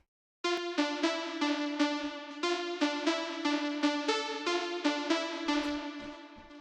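Bright synth pluck from an afro-house track plays a rhythmic run of short, repeated notes, clear and fairly quiet, with no voices over it.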